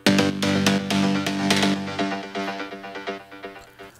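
Melodic techno synth stab group, short chordal hits in a steady rhythm trailed by heavy delay echoes that smear between them, loud and sustained at first, then thinning into quieter repeating stabs.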